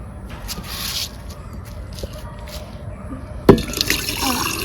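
Watermelon juice is poured into a jug, a faint trickle and splash under low background noise, with a sharper knock partway through followed by a fuller liquid rush.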